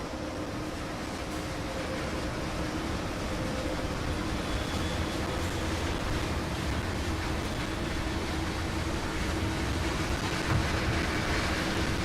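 Idling train standing at a station in Train Sim World 2, a steady low engine rumble and broadband hiss holding at a constant level throughout, with no voices.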